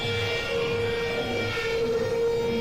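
Sirens playing in an EverymanHYBRID video: a loud, steady wailing tone with layered harmonics holds throughout over a constant low rumble, with no speech.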